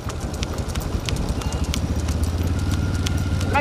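Bulls pull carts in a big-bull bullock cart race at Kazhugumalai. Their rapid, rhythmic hoofbeats pound loud and close, with a steady rattling rumble that carries through the whole stretch.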